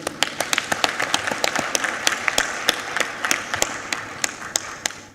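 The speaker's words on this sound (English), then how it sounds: "It is on that note that I wanted members that we clap for this lady." An audience at a national development review conference in Uganda claps for someone speaker, with many hands producing steady, fairly loud applause and distinct individual claps standing out across the stretch.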